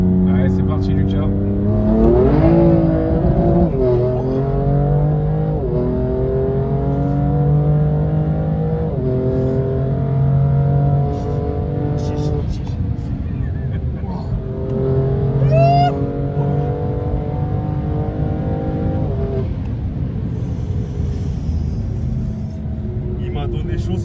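A 600 hp BMW M2 Competition with a stage 2 tune accelerates hard, its engine note climbing repeatedly through the gears with brief dips at each shift, loud inside the cabin while people talk over it.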